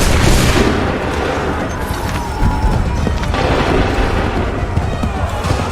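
Cannon and musket volleys roar through an Assassin's Creed 3 battle, forming a loud, dense wall of booming blasts and crackling gunfire that rumbles on without a break.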